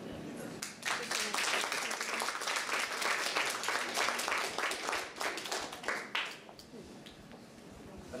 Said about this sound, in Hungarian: Neki szeretnék most egy tapsot kérni.